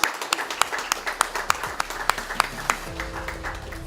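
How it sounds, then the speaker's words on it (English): An audience at a tech device launch claps steadily, sharp hand claps layered into a brisk round of applause that softens near the end. "please join me in giving him a round of applause"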